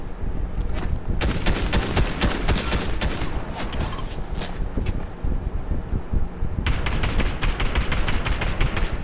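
Gunfire in a Fortnite match, with rapid bursts of sharp cracks in dense clusters over a loud, continuous rumbling game backdrop.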